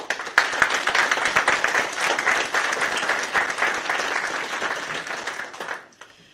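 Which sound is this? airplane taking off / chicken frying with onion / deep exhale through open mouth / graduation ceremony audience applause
graduation ceremony audience applause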